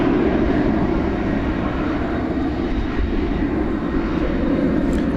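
A Qatar Airways airliner at Dallas Fort Worth airport at night gives a steady, loud jet engine roar that holds evenly throughout, with no other sounds breaking through.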